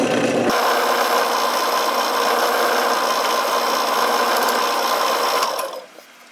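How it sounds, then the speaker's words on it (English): Drill bit boring steadily through a segmented pen blank of wood and aluminum, a loud continuous grinding whine held for about five seconds before it cuts off abruptly. "it's important to have a very sharp bit when you're drilling a segment with aluminum"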